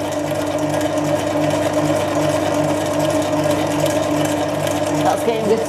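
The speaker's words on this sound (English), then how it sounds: "That's getting whisked up nicely." Electric mixer whisking royal icing, a steady mechanical whir with a low motor hum that stays constant and fairly loud throughout, with no talk over it.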